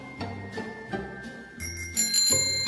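A bicycle-style bell is rung several times in a live broadcast studio, quick bright dings in short bursts, ending in a longer ringing tone, close and clear with no talk.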